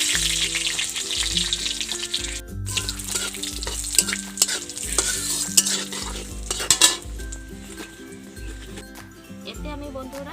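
Bay leaves, cashews, cardamom and dried red chillies crackle and sizzle in hot oil, a steady bright frying hiss with stirring scrapes, heard under background music.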